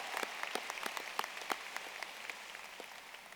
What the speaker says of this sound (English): let's give her one more round of applause, our salutatorian, outstanding speech